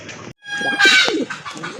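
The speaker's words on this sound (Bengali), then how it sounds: "দেখেন কতটা অ্যাক্টিভ কবুতর আর প্রচুর ডাকে কিন্তু" Pet pigeons in a sale collection of large pigeons coo and call in a short, busy burst of overlapping bird voices, close to the microphone with no talking.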